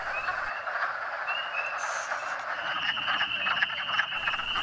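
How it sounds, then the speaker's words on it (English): Wood frogs and spring peepers call together at a vernal pool: a dense, continuous chorus of croaks, with thin, high peeps repeating throughout. "the sounds of the wood frogs and the peepers get louder and louder"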